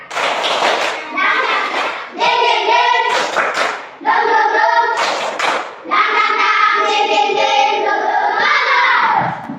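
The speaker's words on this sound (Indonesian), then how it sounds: "Tepuk semangat dulu." A classroom of children performs the tepuk semangat cheer, rhythmic bursts of clapping with loud chanted voices in several short phrases.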